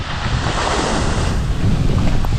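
Steady wind roars over the microphone while waves rush and slosh against a Mini Transat 650 sailboat racing at sea, loud and continuous with no voices.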